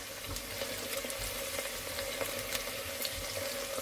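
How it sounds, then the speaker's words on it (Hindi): Sliced capsicum and onion fry lightly in a little oil in a pan for a chicken pulao, giving a steady, even sizzle with faint stirring clicks, close and continuous, with no one speaking. "यहाँ पे थोड़ा सा ऑयल ऐड करके इसको हल्का सा फ्राई कर लेंगे"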